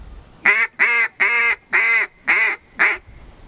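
A double reed duck call blown in a hunting demonstration gives six evenly spaced, loud, raspy quacks in a steady descending sequence, close up with no voices.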